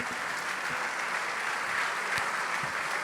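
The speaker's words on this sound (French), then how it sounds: "On peut l'applaudir bien fort" Rugby supporters at a team presentation applaud a player, a sustained crowd clapping with scattered sharper claps and faint cheering mixed into the steady wash.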